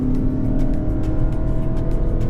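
A Lexus NX 300h hybrid SUV pulls away from a runway under acceleration, its steady engine and drivetrain drone loud and close throughout, with road and tire noise layered on top and no voices.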